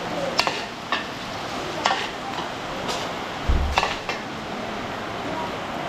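Garlic and onion sauté in a pan for pork adobo, with a soft steady sizzle broken by several sharp stirring scrapes and clinks of a utensil against the pan.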